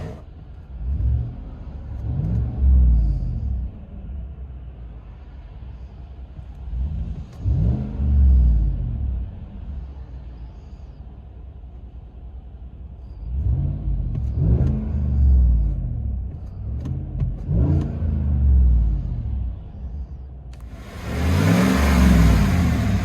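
A deep V8 rumble from a 2017 Chevy Silverado 6.2L with a Borla ATAK exhaust, heard from inside the cab, swelling with several rev-ups and easing back between them, muffled and bass-heavy.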